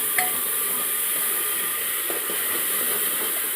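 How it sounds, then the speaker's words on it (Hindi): Vegetables fry in a pan with a steady, hissing sizzle that stays even throughout, with faint clinks and stirring noises under it. No one talks. "ये वेजिटेबल फ्राई हो रहा है"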